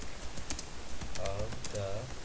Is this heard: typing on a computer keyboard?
yes